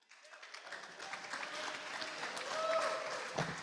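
A Rotary Club audience at a meeting in Gainesville claps after piano playing, a moderate, steady round of applause from many people that swells gradually and holds, heard from some distance in the room.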